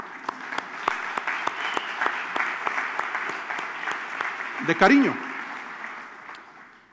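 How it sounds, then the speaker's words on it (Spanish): An audience applauds the women of a church congregation in a steady burst of clapping that runs throughout, with a speaker's voice talking briefly over it near the end. "¿Por qué no damos un aplauso a las mujeres?"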